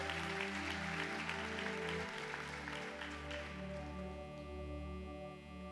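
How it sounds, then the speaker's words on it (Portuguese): Audience applause rises during a church service, dense clapping that fades over a few seconds while sustained musical tones and a low organ or keyboard drone continue underneath. "Aplauda mais uma vez."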